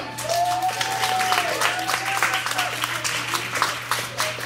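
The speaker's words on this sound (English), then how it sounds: "Y'all put your hands together one time." Comedy club crowd clapping, a loose, uneven round of applause in a room with a steady electrical hum and scattered voices and whoops mixed in.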